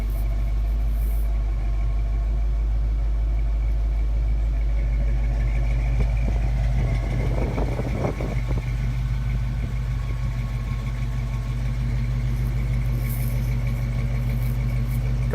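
A 1968 Ford Mustang coupe's 289 V8 with Thrush exhaust idles steadily up close, a deep low rumble holding even throughout with a brief rise in the middle.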